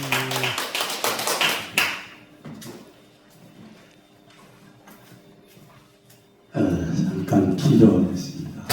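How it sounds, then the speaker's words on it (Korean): Clapping for a pastor at a Korean church prayer service, a loud burst of many hands at the start that fades into near silence, then a second dense round of clapping near the end. "우리 목사님 박수하겠습니다"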